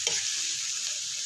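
Bamboo shoot adobo stirred in a cooking pan, a steady close sizzle with scraping stirs and one sharper clatter near the start, no voices.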